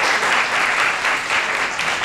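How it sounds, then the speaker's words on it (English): An audience at an honors college colloquium claps steadily as a speaker is thanked at the end of the session, a dense, even wash of applause with no voices over it. "another round of applause"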